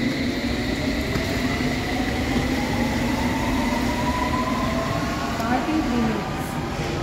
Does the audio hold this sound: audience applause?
no